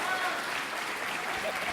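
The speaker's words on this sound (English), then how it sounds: "Everybody give a round of applause, though, for Vern up here on the stage." Audience applause at an arts showcase and campaign kickoff on a stage, a dense, steady wash of clapping throughout, with a voice faintly mixed in.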